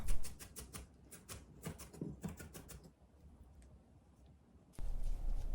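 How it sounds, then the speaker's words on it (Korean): A knife chops an onion rapidly on a cutting board in quick bursts of sharp taps, close up, with pauses between runs. "역시 양파는 그냥 칼질로 하는 게 좋은 것 같아요"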